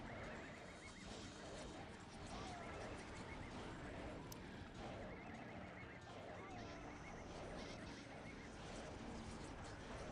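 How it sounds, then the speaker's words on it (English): A horse in the Ultima Online video game whinnies and neighs repeatedly over soft clip-clop hoofbeats, with steady game ambience running underneath throughout. "I saw a green horse."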